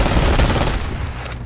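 Loud, close automatic gunfire in the online multiplayer video game Call of Duty: Black Ops 6, a dense rapid burst that fills the first part and then thins out toward the end.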